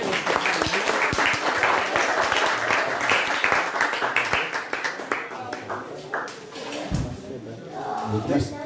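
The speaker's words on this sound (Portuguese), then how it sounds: "Vamos bater palmas pro grupo aí." A group at a church retreat claps energetically, a dense burst of applause with some voices mixed in, gradually thinning out toward the end.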